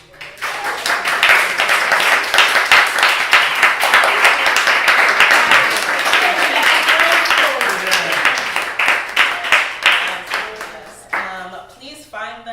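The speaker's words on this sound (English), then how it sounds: "Let's give our panel a round of applause." An audience applauds a panel at a talk on cartoons and illustrations, many hands clapping in a loud, sustained burst that thins toward the end as a voice begins to speak.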